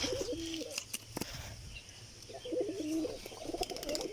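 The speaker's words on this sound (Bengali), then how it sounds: "এই দেখো বন্ধুরা, কবুতরটা নটটা কেমন ডাকছে" A pigeon in its coop coos softly, two low rolling phrases separated by a pause, faint against a quiet background with a few small knocks.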